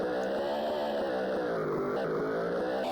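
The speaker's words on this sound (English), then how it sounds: "Wow, this engine noise." A buzzy, synthetic car engine drone from an Amiga racing video game runs continuously at a steady loud level, with its pitch wavering slightly and a short dip around the middle.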